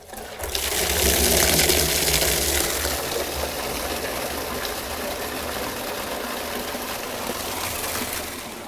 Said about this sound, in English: open the tap and start to decant our material